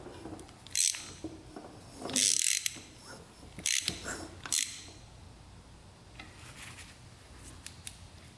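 Hand ratchet with a 17 mm socket turning over the engine of a 1982 Honda 500 motorcycle: a few short, close metallic clicking bursts at irregular intervals, followed by fainter ticks against a quiet background.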